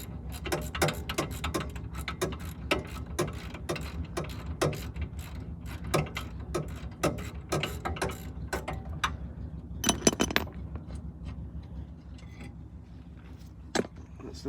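Ratchet wrench clicking in rapid bursts while a brake caliper bracket is loosened on a wrecked 2004 Subaru STI, the pawl ticking close and sharp with brief pauses between runs and a louder cluster near the end.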